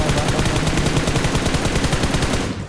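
Sustained rapid gunfire in the mobile battle royale game BGMI, dense bursts of automatic shots rattling continuously at close range with no talk, cutting off just before the end.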